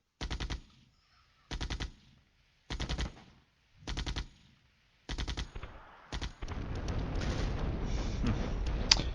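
Machine-gun fire from AMX tanks posted on a hilltop in a Cold War strategy video game: four short rattling bursts at a steady pace, then a denser, continuous stretch of loud gunfire and battle noise with no talking.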